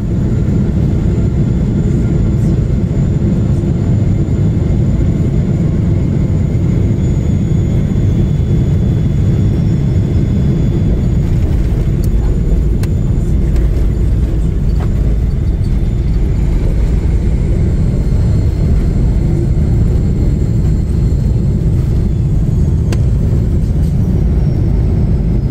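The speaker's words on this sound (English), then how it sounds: "This Boeing 777 overshot the touchdown zone, forcing it to go around." A Boeing 777 jet goes around after overshooting the touchdown zone, its engines producing a loud, continuous low roar and rumble that persists for the full stretch with no voices.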